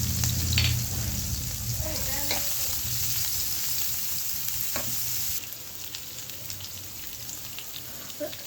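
Chopped onions sizzle steadily in hot soybean oil in a pan, with occasional scraping and stirring clicks; the sizzle drops somewhat midway and continues more quietly.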